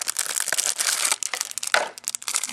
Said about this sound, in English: Open the cellophane and find out.